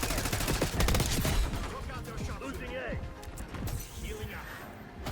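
An XM4 assault rifle fires in a Call of Duty match as rapid automatic bursts, loud and close at first and then thinning into scattered shots and impacts, with a person talking over the gunfire.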